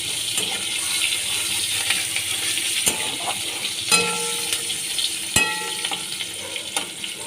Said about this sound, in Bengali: তেলের মধ্যে আমি একটা শুকনো লঙ্কা দিয়ে দিলাম কালো জিরে দিয়ে দিচ্ছি পেঁয়াজ কুচি দিয়ে দিলাম